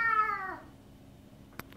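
A cat lets out one drawn-out, wavering meow close by, fading after about half a second into a quiet room, followed by a couple of small knocks.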